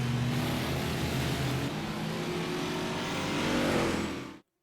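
Big block race cars running a heat race at Lincoln: a steady, loud roar of several engines droning together at high revs, holding constant before cutting off abruptly at the end.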